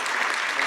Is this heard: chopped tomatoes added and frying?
no